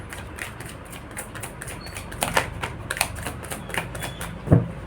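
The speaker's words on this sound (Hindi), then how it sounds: "कार्ड्स टकरा रहे हैं" Tarot cards knock and clatter against each other in a run of quick, light, papery taps and shuffling clicks, fairly close and moderately loud, with one sharper knock near the end.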